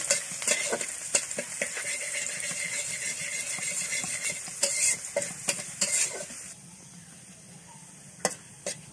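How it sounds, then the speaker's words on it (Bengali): Chopped garlic sizzling in a little oil in a pan, stirred with repeated scraping and clattering of a spatula, the frying hiss dropping away near the end with a few last clicks. "এরপরে যে রসুন কুচিগুলো দিয়ে দিব। হালকা পরিমাণ ভেজে নিব।"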